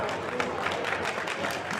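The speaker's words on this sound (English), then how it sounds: "Big round of applause." Audience applause at a product launch event honouring a prize winner, a steady, dense patter of clapping mixed with crowd murmur throughout.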